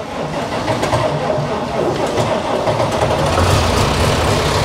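Tractor engine running in a workshop after the ignition is switched on, a loud, steady low rumbling idle throughout with no speech.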